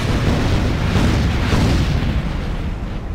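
Explosions in XCOM: The Long War video game, a loud, continuous booming rumble that rolls on for about three seconds without pause.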